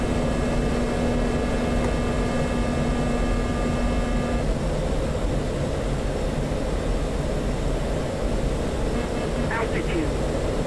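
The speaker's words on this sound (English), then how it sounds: "plane takes off, gear goes up, and then just from afterburner thrust" An F-16 jet in the DCS flight simulator taking off on afterburner, a loud continuous engine roar with a steady tonal whine that fades partway through, heard alone.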